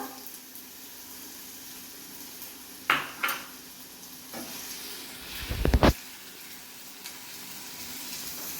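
Chopped onion fries in a pan with a steady hiss, broken by a few clinks of a utensil against the pan and a brief louder scrape and stir near the end.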